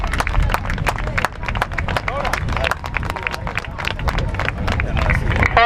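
A crowd claps and cheers for the San Bartolomeu women's senior rowing champions at the Galician trainera final in Meira, Moaña. The applause is dense, steady and loud, with scattered sharp claps and crowd murmur throughout.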